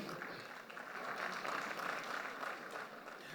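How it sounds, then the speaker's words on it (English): Round of applause for a group CEO at a cooperative awards ceremony, a soft but steady wash of many hands clapping, heard faintly from a distance. "Please, can we give a round of applause for him?"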